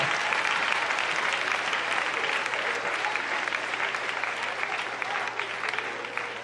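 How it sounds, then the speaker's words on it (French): A large church congregation applauds steadily, a dense wash of clapping that stays loud and even throughout, with a few voices faintly mixed in. "Vous voulez applaudir, mon Dieu, merveilleux, ça."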